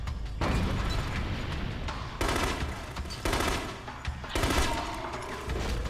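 Gunfire from the Wii shooter The Conduit, several dense bursts starting and stopping across the stretch, loud and close, mixed with other game noise and no talking.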